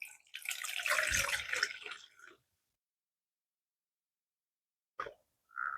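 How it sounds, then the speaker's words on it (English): Pinol mixture for champurrado draining and splashing into a sink or container, a loud watery rush lasting about two seconds, then silence, then two brief splashes near the end. "So now we're going to start draining the Pinol."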